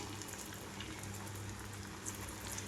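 Moong dal batter fritters frying in hot oil, giving a steady, dense bubbling sizzle that holds even and close throughout, with no voices.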